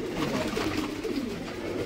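Pigeons kept on a fancy-pigeon farm in Uttar Pradesh coo in a steady, close, low rolling murmur that fills the whole moment, with no speech.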